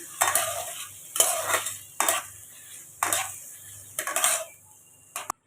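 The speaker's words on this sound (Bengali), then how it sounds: "এবার এই পনিরগুলোকে আমি একটু হালকা করে ভেজে নেব।" Paneer cubes lightly frying in a pan for paneer butter masala: a soft oil sizzle runs beneath five or six distinct bursts of stirring and scraping, each about a second apart, loud and close, with no talk.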